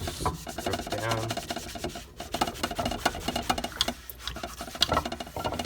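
Dish scrubby made from mesh onion bags rubbed over a cast iron pan, giving rapid rough scratchy strokes close up in uneven bursts, with faint speech in the background.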